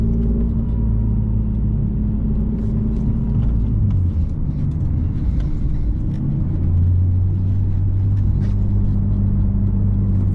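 A Nissan 370Z NISMO with bent exhaust hangers drives toward a freeway entrance. It makes a continuous deep engine and exhaust drone with steady rumbling, loud and close, and no one speaks.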